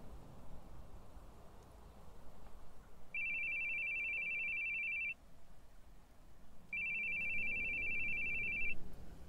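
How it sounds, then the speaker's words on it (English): A phone rings in the horror video game The Boogie Man, with two separate bursts of an electronic trilling ring against a quiet, low background. "Your phone. Your phone's ringing."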